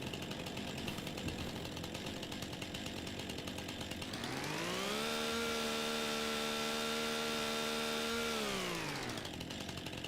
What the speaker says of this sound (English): let's get the chainsaw out